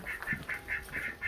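Guinea fowl calling in a coop, a series of harsh, rhythmic squawking cries repeating about every quarter second, moderately close.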